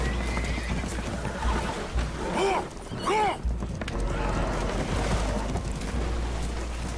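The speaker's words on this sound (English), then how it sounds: "Horses are spooked" Spooked horses neigh and whinny several times in Red Dead Redemption 2 over a constant low rumble and splashing water from a vessel taking on water, with faint voices mixed in.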